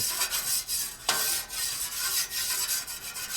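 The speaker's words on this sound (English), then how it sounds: "You take something sharp like your spatula or a scraping tool, turn off your burners, and just give it a nice scrape on the surface" A metal spatula scrapes a flat top griddle surface in repeated rough strokes, giving a continuous gritty rasp that swells and fades with each pass, close and moderately loud.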